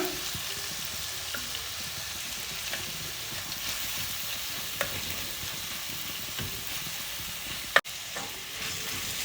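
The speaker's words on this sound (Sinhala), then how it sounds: "දැන් ආපහු හොඳට කලවම් කරගමු." Egg curry being stirred in a pan, a soft steady sizzle with faint spoon scrapes, and one sharp clack near the end.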